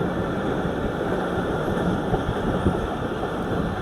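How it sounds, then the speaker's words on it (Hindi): The Marvi Passenger train runs through the Thar desert from Khokhrapar past an old loco shed with a steady, loud, continuous rumble and engine drone from on board, with no clear pauses. "और ट्रेन हमारी खोखरा पार से चली है, मीरपुर पास पहुंच रही है।"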